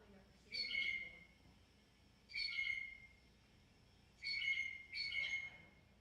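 Recorded blue jay calls ring out in four clear, evenly spaced bursts, each a bright, slightly harsh whistled note, against a low background hum.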